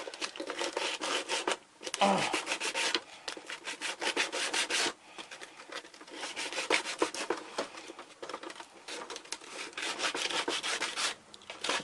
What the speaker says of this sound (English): make absolutely sure the entire surface that you're painting is sanded, because it's plastic